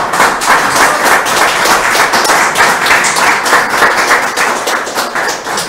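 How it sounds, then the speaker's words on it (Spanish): Dense, loud clapping from a church congregation applauding the Lord, a continuous even roar of many hands that holds steady throughout with no voices on top. "Fuerte aplauso al Señor"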